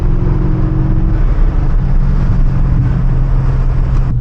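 A BMW M5 with roughly 400 horsepower accelerates hard in first gear, its engine roaring loud and close as the revs climb in one sustained pull, with no speech.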